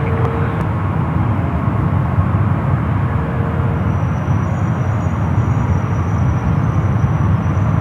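An airliner takes off and banks right at San Francisco airport, its jet roar loud and sustained, a broad, unbroken rumble with no voices.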